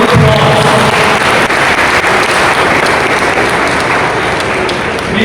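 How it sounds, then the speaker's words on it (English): A loud, sustained round of applause from an audience at a Loyola Alumni Association Chennai chapter event, dense clapping that holds steady for several seconds and fades slightly toward the end. "Please give him a round of applause."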